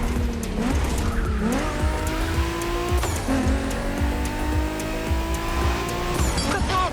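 A Ford Mustang Boss 429 races in The Crew Motorfest. Its loud muscle-car engine revs up and shifts repeatedly, with tire squeal and skidding layered over the rising and falling engine notes.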